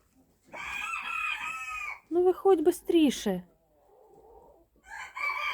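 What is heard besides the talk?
chickens clucking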